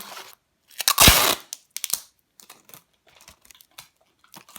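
Tape is pulled and pressed all around a plant pot, making a loud crackling rip near the start followed by scattered short crinkles and taps, close by with no talking.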